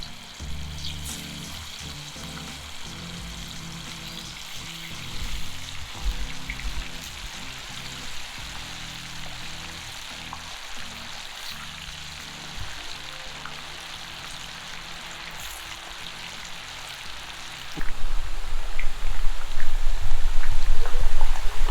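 Chicken pieces frying in hot oil on a mini portable square gas stove, a steady close crackling sizzle throughout that swells noticeably louder toward the end.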